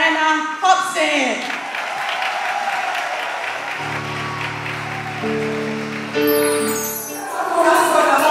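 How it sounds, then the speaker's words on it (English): Audience applause greeting a performer at a live Ghanaian gospel and Afro-pop show, steady and sustained through the clip with music and voices layered over it. "Ladies and gentlemen, with a big round of applause"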